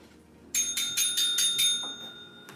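Cockatoo ringing a dog training bell, about six quick bright dings in a row, then a single ding a moment later, close and clear with no talking.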